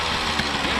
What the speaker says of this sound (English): Play with that throttle a little bit more, but this time we're taking the RPM way up a little bit more.